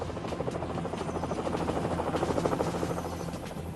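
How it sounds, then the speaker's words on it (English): Military helicopter gunships arrive with a steady, loud rotor thump that pulses evenly throughout, alone with no voices. "Helicopter gunships soon arrived to assist."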